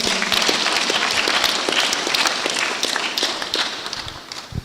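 An audience claps together for a group of speakers at a Dedan Kimathi University of Technology ceremony, a steady, dense patter of many hands that holds for several seconds before thinning slightly at the close.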